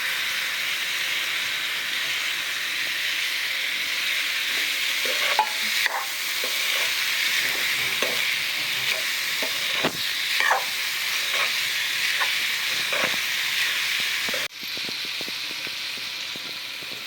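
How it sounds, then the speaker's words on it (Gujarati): A spoon stirs boiled mung beans, jowar and moth beans with coriander-cumin powder, turmeric and chili in a hot pan for pulao, over a constant close sizzling hiss with scattered scraping clinks. "ધાણા જીરું પાવડર, હળદર, મરચું મિક્સ કરી દઈશું।"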